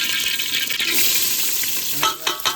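Hot oil sizzling steadily in a pan on a gas stove, a broad continuous hiss with a few louder crackling bursts near the end, close and fairly loud, with no one talking.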